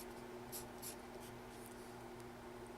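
A pencil writes on paper during a children's classroom art lesson, producing faint, scattered scratchy strokes over a steady low room hum.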